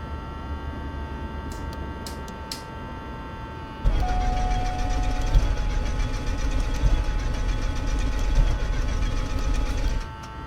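A Diamond DA40 piston aircraft engine cranks over in a flight simulator, first a steady mechanical whir, then a louder, rougher rhythmic churning as the starter turns the engine, running continuously for several seconds before easing off.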